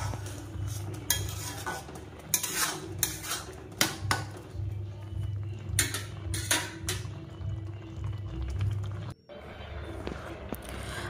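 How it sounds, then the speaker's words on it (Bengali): Carrot halwa with milk stirred in a pan over low gas, with repeated scraping and clinking strokes of a spoon against the pan in an uneven rhythm, moderately close. "আমি কিন্তু দুধটা দিয়ে দিয়েছি হালুয়ার মধ্যে, ভালো করে নাড়িয়ে নিচ্ছি"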